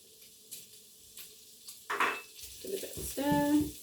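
Crushed, diced garlic hits a pan of browned meat for adobo, making a soft sizzle with scraping stirs and utensil clinks against the pan that grow busier toward the end.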